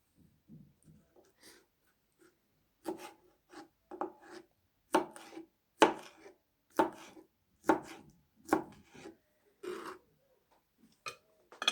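Knife chopping through pineapple on a board, a series of sharp crisp cuts in an uneven rhythm, sparse at first then more regular, close and fairly quiet with no talking.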